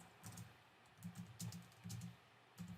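Someone types on a computer keyboard in quick, uneven bursts of clicking keys, fairly faint and close, with short pauses between the runs.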